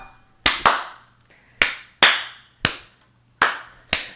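A soundboard clapping effect fires in sharp, separate bursts, about eight claps spaced irregularly, each crisp and close with a short reverberant tail, with no talk over them.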